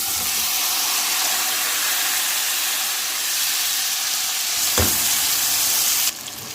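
Fried chicken pieces go into a pan of browned garlic for Chinese-style rice and grape manchurian, giving a loud, steady broadband sizzle with a brief thud as they land, then a sudden drop in intensity near the end.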